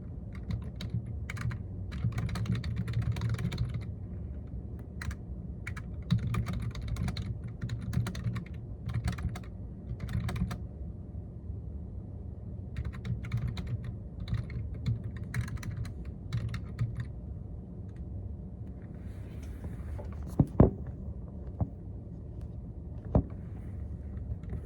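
Steady bursts of computer keyboard typing while writing a novel, quick irregular clicks coming in clusters over a low constant room hum, with a couple of sharper knocks near the end.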